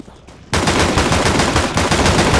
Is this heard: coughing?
no